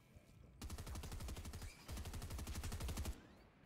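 Rapid automatic gunfire in Fortnite, likely from a turret, two sustained bursts of evenly spaced shots with a short break between, loud and close against a quiet background.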